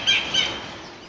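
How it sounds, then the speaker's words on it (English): Collared kingfisher calling in Singapore, two loud, harsh, high-pitched notes in quick succession near the start, then fading into ambient background. "the sounds of bird life, like those of this collared kingfisher, can often be heard regardless of where you are."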